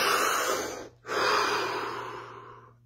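One deep breath heard close and clear, a strong inhale flowing almost directly into a long, fading exhale, during a guided relaxation exercise, with no talk.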